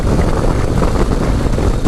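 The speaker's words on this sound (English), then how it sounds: "it's getting a little bit of wind buffing" Loud, steady wind buffeting roars against the microphone on a 2025 Harley-Davidson Low Rider ST motorcycle riding at speed on a windy day, a constant low rumble, with no voices.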